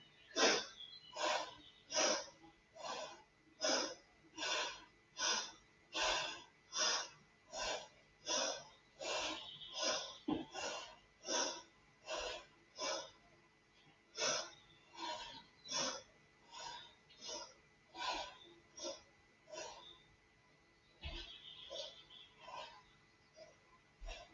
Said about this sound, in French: vous pouvez maintenant accélérer votre respiration. Inspire, expire.